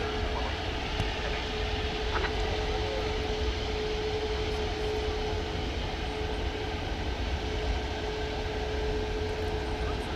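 Airbus A380 airliner at DFW Airport at night, a steady distant jet roar with a faint constant engine whine, holding level throughout with no voices.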